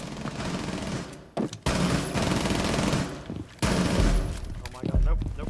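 Rapid automatic gunfire from Rainbow Six Siege rattles loudly in long bursts with brief pauses between them, some heavy booming impacts mixed in, and a player's voice talking over the shooting.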